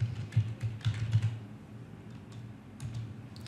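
A computer keyboard is typed on in quick bursts of soft, close clicks, pausing midway and then resuming with a few more keystrokes.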